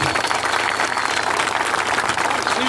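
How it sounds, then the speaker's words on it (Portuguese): A crowd at the Lula Livre camp in Curitiba claps steadily in tribute to Paul Singer, a dense, continuous applause that fills the whole stretch without pause. "Ou 1 minuto de aplausos por tudo que ele fez pelo Brasil e pelo povo brasileiro."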